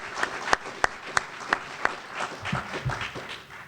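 A small audience gives a round of applause, starting with a few crisp, separate claps and then softening into a quieter patter at a moderate distance.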